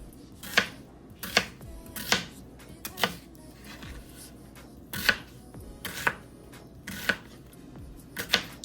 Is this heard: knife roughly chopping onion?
yes